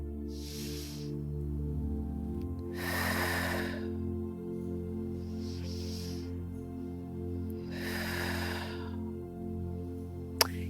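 Slow, deep belly breaths during a guided diaphragmatic breathing exercise: four unhurried airy breaths spaced a few seconds apart, heard close over a steady, soft musical drone.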